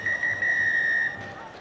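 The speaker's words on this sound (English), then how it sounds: "And that is the final whistle from Jack Makepeace." A referee's final whistle at a professional rugby match, Exeter Chiefs against Leicester Tigers, sounds as a long, shrill blast of over a second with a short chirp first, over faint stadium crowd noise.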